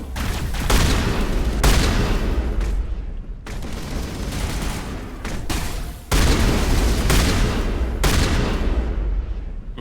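Shotgun blasts in Mass Effect, several loud, sharp reports a couple of seconds apart, each with a long booming tail, over a dense background of combat noise.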